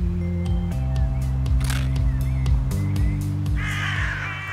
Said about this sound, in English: Freaking blackbirds!